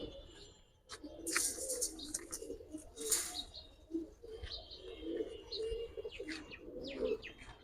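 High-flyer pigeons coo in a low, continuous murmur, with scattered sharper chirps and calls from other birds layered over the top throughout.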